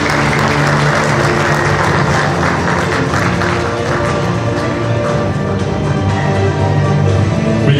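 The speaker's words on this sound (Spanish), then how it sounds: "brindémosle los aplausos a estos futuros profesionales" Sustained audience applause at a university hospital-internship blessing ceremony in Tarma, a dense, steady clatter of many hands filling the room for the whole stretch with no talk over it.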